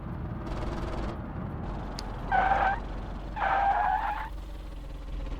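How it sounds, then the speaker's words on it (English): Car tires skid and squeal in two loud, tonal bursts as the very touchy brakes lock up in the BeamNG driving game, heard over a steady engine drone with no talking. "it takes like nothing to get these brakes to lock up."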